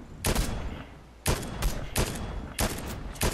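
Video game gunfire aimed at a tree that won't fall, heard as loud, close bursts of a few rapid shots each, repeating about four times with short gaps, with no talking.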